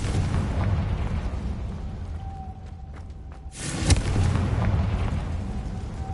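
A Confringo blast spell going off in Hogwarts Legacy, a loud explosive burst rising out of a brief lull mid-clip, over sustained rumbling game noise.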